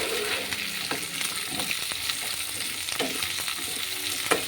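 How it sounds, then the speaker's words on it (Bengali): Potatoes fry steadily in hot oil in a pan, a continuous sizzle broken by repeated scraping knocks of a spoon stirring them, close and moderately loud, with no talking. "এটা যতক্ষণ না হালকাভাবে ফ্রাই হয় ততক্ষণ কিন্তু আমি হালকা করে নাড়িয়ে নিব"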